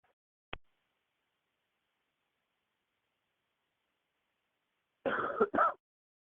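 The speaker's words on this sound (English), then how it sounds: "Sorry if I'm coughing now." Near silence broken by one faint click, then a brief burst of throat clearing and coughing in two or three quick pulses near the end.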